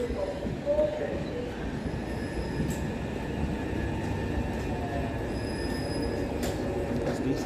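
A Southern class 377 electric train at a station platform on a Gatwick Airport service, heard as a steady low rolling rumble with faint high wheel squeals, and a voice talking in the background.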